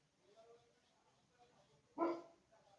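A neighbour's dog in Delhi gives a single loud bark partway through, set against faint background talk in a room.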